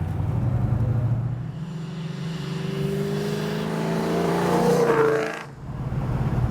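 A light car with a Ford Coyote engine drives past close by, its exhaust note rising as it accelerates, then sweeping away and dropping off abruptly before the steady rumble returns.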